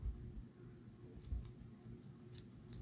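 Scissors trimming the ends of a ribbon bow on a handmade card, a few quiet close snips spaced apart over a low background rumble.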